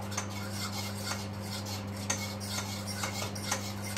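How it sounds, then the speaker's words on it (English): A utensil stirs gravy in a pan, giving faint, irregular clinks and scrapes of metal against the pan over a steady low electrical hum. "Now we're going to give the nice gravy a nice little stir."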